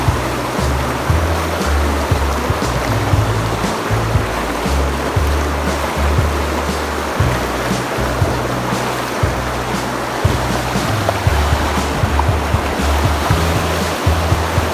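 Floodwater surging through a village after a dam broke, a loud, steady roar of rushing water with constant turbulent noise and no letup across the whole stretch.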